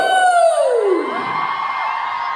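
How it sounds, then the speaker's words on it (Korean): A concert crowd at a Busan K-pop show lets out a loud, sustained roar. A descending whoop cuts through it and melts into an ongoing wash of cheering and shouting. "이 함성 소리가 진짜 크네요"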